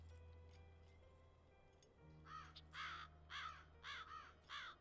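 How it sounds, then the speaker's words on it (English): A raven in the video game Black Mirror II caws five times in an evenly spaced series of harsh, clear calls over a quiet low hum. "Maybe we can use spoon to lure the raven out."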